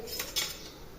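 A metal spoon clinks against kitchen dishes in two quick, faint taps, close by in an otherwise quiet room.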